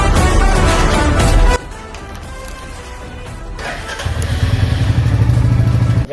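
A motorcycle is brought out and started: a loud engine runs at first, then cuts to quieter handling noises and clatter before the engine fires up again and idles steadily nearby.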